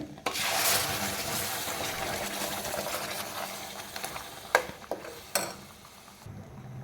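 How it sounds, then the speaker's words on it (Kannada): Palak paneer masala gravy simmering in a pan, a continuous bubbling sizzle with a few sharper pops and clinks near the end, close and moderately loud. "ನೋಡಿ ಕುದೀತಾ ಇದೆ."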